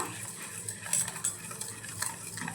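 Raw mango panna mixture with amchur powder and chaat masala being stirred, a spoon scraping and clinking softly against the pot in irregular strokes, close and quiet.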